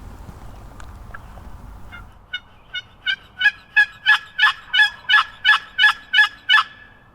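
A wild turkey gobbles in a rapid run of about a dozen sharp, evenly spaced calls that grow louder, after a few faint earlier notes against a quiet outdoor background.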